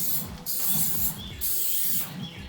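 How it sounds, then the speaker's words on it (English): Bursts of hissing aerosol cooking spray onto a grill, three sprays in quick succession with brief pauses, close by over a low outdoor rumble. "I'm going to spray the grill down a little bit with some"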